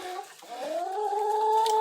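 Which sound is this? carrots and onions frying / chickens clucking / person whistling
chickens clucking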